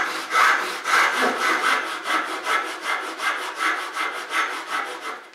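A Japanese handsaw cutting through wood in steady back-and-forth strokes, about a dozen rhythmic rasping pulls, close and loud with no talking.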